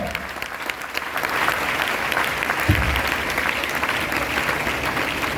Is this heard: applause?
yes